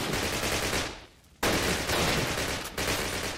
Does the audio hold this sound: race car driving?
no